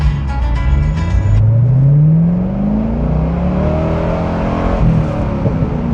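A car engine runs steadily while driving, revving up and easing off through the gears with a smooth rising and falling drone, loud and close, with no talk.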